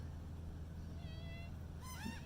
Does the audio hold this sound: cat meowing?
yes